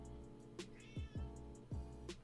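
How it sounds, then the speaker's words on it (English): A pet cat meows indoors, a few short, quiet mews spaced irregularly over a low background hum, with no voices heard. "You hear my cat? What are you meowing about?"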